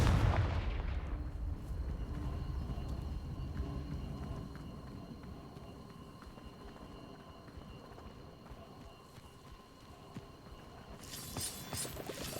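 The Confringo fire spell goes off in Hogwarts Legacy with a heavy, rumbling blast that fades through a long low roar. A sharper, brighter burst arrives near the end, with no voices over it.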